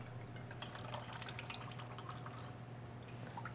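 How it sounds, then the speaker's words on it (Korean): Bonito dashi stock being strained in a kitchen, a faint steady trickle and patter of liquid dripping and running through, quiet and close with no talk. "제가 여기 그 가다랑어 다시무를 한번 걸러볼게요"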